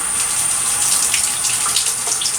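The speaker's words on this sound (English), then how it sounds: "I start with some cold tap water" Cold tap water pours steadily into a pot of rice, a continuous bright gushing hiss that stays even and close for the whole stretch, with no voices.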